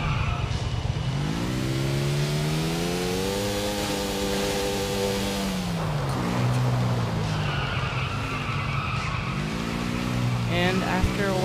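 A motorcycle in Grand Theft Auto revs up with a rising, wavering engine whine that climbs, drops and climbs again as it pulls into a wheelie, loud and close, with a voice talking over it.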